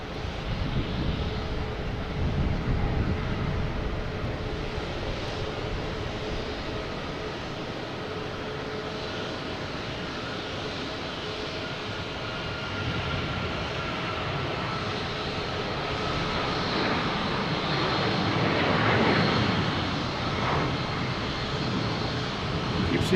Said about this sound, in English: Taking off, we have United Airlines 737 MAX 9 heading to LAX.